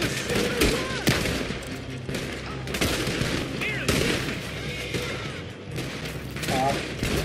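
Video game gunfire rattles in dense, continuous bursts of rapid shots and booms, loud and close throughout, with voices talking over the combat.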